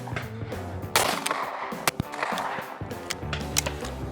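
Krieghoff K80 Parcours X shotgun fired at clay targets, a few sharp reports near and loud, one strong blast early and sharper cracks later, with outdoor background noise between.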